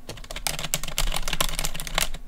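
Keyboard keys are struck hard right beside a microphone, a close, loud burst of rapid clacking keystrokes with uneven rhythm and no talk.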